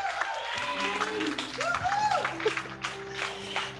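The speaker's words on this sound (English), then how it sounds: "So let's clap for our Bishop, Bishop Trevor D. Alexander." A church congregation claps for their bishop, a steady wash of applause mixed with a sung or sustained musical tone and some murmured voices underneath.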